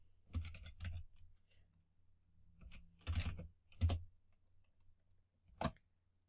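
Keystrokes on a computer keyboard while entering an Excel formula, a few quick clusters of clicks separated by pauses, fairly close and fairly quiet.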